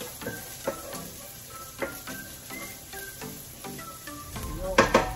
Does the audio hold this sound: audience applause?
no